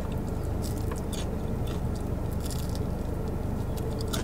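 Biting and chewing a crunchy Popeyes fried chicken sandwich, close to the mic, with repeated crisp crunches and moist squishing over a steady low background hum.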